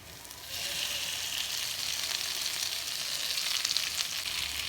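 Fried potatoes and onions being stirred into a spiced masala in a pan, giving a steady, close sizzle with faint scraping that swells after a quiet start and carries on evenly with no talking.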